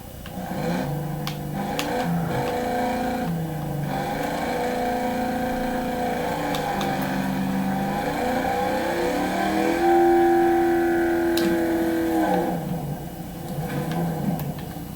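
Engine of the Fang race car in Fortnite revving and accelerating steadily, a loud continuous roar with rising and shifting pitch and no talking.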